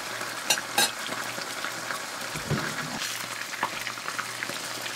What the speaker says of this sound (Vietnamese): Trở mặt và mình chiên cho thịt vàng xém như vậy là được nè.